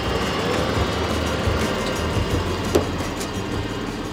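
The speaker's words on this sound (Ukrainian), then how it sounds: "Трактор цей називається клас Agron 640." A Class Agron 640 farm tractor with a 150-horsepower John Deere Power Systems engine runs at a steady idle, a loud, even low rumble with no talk over it.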